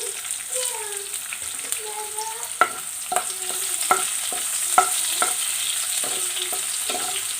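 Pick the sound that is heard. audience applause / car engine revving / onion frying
onion frying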